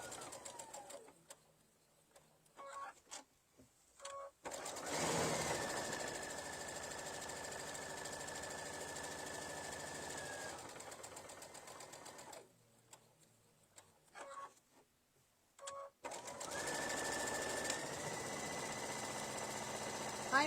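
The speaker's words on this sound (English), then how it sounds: "I'm just going to stitch around the entire pocket with my 1/4 inch stitch" A sewing machine stitches around an apron pocket in two long, steady mechanical bursts, separated by brief quiet pauses with small handling noises, heard close and alone.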